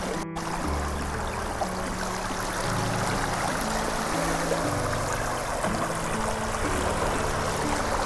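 Floodwater in Ziro surges in large volume toward farm fields after incessant rain, a loud, continuous broadband rush with a low rumble that holds steady from start to finish, with no voices.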